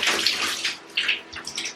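Running water rinsing shampoo out of curly hair, a close, splashing rush with uneven surges, brief and fairly loud.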